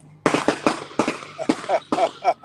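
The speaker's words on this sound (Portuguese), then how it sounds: "É fogos, não é tiro não" Rapid bangs and crackles of fireworks going off nearby in a loud irregular burst, with a voice talking underneath.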